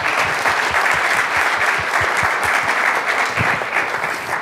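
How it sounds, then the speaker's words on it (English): An audience at a museum panel event applauds the lead sponsors, a sustained, even burst of clapping from many hands, loud and close, with individual claps standing out near the front. "So a big round of applause for them and thank them."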